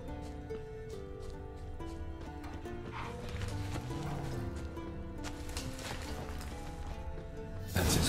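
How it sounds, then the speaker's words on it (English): In The Witcher 3, a horse's hooves clip-clop in a steady walking rhythm, mixed under a game soundtrack with tonal music and ambient rustle, moderately faint. "That's his horse."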